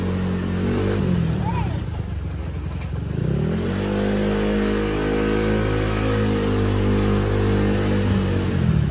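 A motorcycle engine fitted with a new Kaze NPP piston and running on Motul oil, still in its break-in period, hums steadily and close with a slight shift in pitch partway through, kept gentle rather than hard revving.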